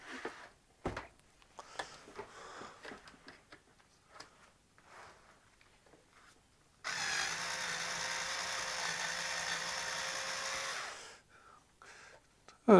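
A powered screwdriver hums steadily for about four seconds while backing thread-locked screws out of the side panel of a piece of HP equipment, preceded by small clicks and handling noises.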